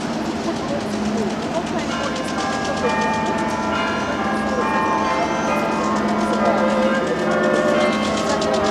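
Church bells of Ivan the Great bell tower in the Moscow Kremlin ring continuously, layered sustained tones over a loud steady outdoor background throughout.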